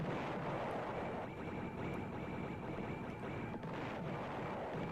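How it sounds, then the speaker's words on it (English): Dense, continuous rumbling explosions from the Amiga video game Sidewinder roar without pause at steady loudness, with no talk. "And the explosion sounds just rock. I used to get so fired up about these explosion sounds."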